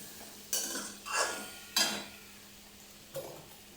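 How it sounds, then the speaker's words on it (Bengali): Potatoes and taro fry with turmeric and salt in a pan, heard as four separate spatula scrapes and stirs over a faint, low sizzle in a quiet kitchen. "একটু ভাজা ভাজা করে নেব"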